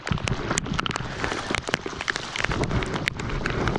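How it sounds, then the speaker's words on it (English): Heavy rain falling steadily during kayak fishing, with dense drumming patter and sharp individual drops striking the surface close by, loud and continuous throughout. "More rain coming."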